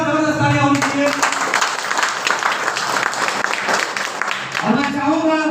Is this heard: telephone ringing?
no